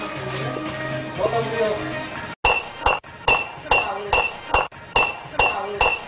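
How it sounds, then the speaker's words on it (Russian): Glass bottles struck against a head in a series of meme clips: a run of sharp, loud clinks and knocks, roughly one every half second after a brief quieter stretch with background sound at the start. "Тщетные попытки разбить бутылку о голову."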